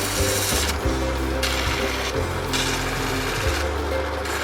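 Boulder opal is rough sanded on a 20-grit diamond-impregnated fabric pad, giving a loud, continuous machine drone with a harsh gritty rasp that swells and fades in repeated strokes.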